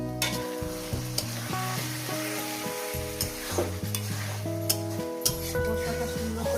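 Spice masala and vegetables, with fish, fry and get stirred in a pan, giving a steady sizzle with sharp scraping clicks from the spoon over a sustained musical tone in the background.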